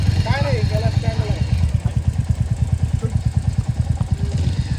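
A Hunter motorcycle engine pulls away on a beach trip, its steady low exhaust pulses thumping in a fast even rhythm, loud and close, with a brief rising whine early on and a faint voice.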